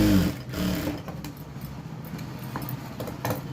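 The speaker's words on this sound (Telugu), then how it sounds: "ఫోల్డ్ చేసేసుకొని ఇలాగ కుట్ అనేది వేసుకోవాలి." A sewing machine stitches along folded blouse fabric in a short burst, a faint quick mechanical ticking and whirring under room noise.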